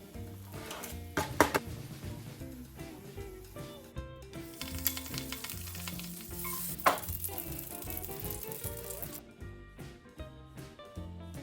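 Red velvet pancakes sizzling on a griddle, a continuous close frying hiss mixed with clinks and light kitchen handling noises across the whole stretch, with no talking.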